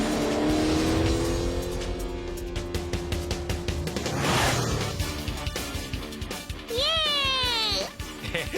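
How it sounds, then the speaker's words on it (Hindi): An animated cartoon race car starts up and speeds away, a steady engine drone with revving and a squealing tire sweep near the end, all under children's cartoon voices. "टेम्पो अन्ना की कार तो स्टार्ट हो गई। अब मुझे पूरी स्पीड से आगे बढ़ना होगा"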